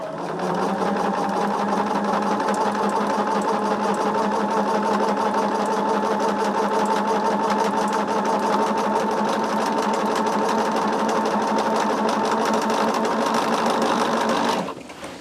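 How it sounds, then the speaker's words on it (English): A sewing machine stitches along the edge of a cotton quilt in one steady, continuous mechanical whir, close and loud, before stopping abruptly near the end, with no talking. "then flip to the edge I am sewing on"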